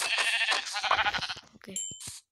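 A sheep in the Minecraft video game bleats several times in quick wavering cries, fairly loud and close, followed by a few short clicks and a brief chime.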